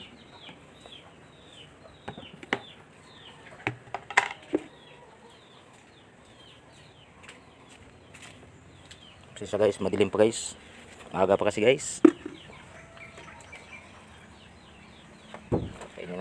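Chickens cluck and flap near a person in the dark early morning at feeding time, with scattered bursts of activity and a louder flurry midway, under casual talk.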